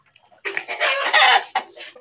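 A large Blue Australorp hen on a rooftop chicken farm clucks loudly and close, a short burst of several rapid calls with no talking.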